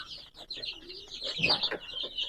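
Native Bangladeshi chickens cluck on a backyard farm, with several birds making overlapping short calls and a brief louder burst of clucking near the middle. A faint voice sits low in the background.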